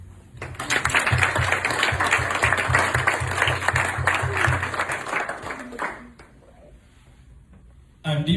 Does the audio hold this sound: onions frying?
no